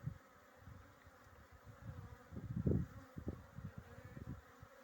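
A dense, steady buzz of many honeybees at breeding colonies nearby, swelling briefly louder at moments, with no voices.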